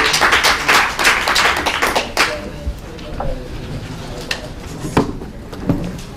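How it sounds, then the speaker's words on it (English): A conference audience applauding as presenters walk on stage, loud dense clapping at first that thins to scattered claps and fades, with a few knocks and a voice speaking near the end. "Round of applause as they come on."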